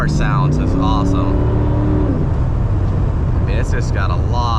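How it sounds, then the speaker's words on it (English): A 1985 car engine pulls hard on a highway, a loud, continuous drone that climbs in pitch as it accelerates, under steady road noise with someone talking over part of it. "Car sounds is awesome."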